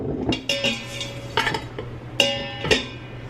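A DIY neem oil pesticide spray mixture is stirred in a container, giving several sharp clinks and scrapes of a utensil against the sides in an irregular rhythm, close and clear with no talk.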